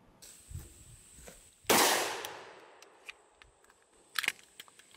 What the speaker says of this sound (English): here's what happened when I shot it out of my Glock 19